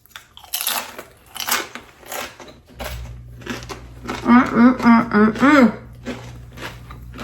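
Someone bites into a chip loaded with dill pickle salsa dip, giving a few close crunches and chewing sounds, with a voice making drawn-out appreciative sounds over the chewing.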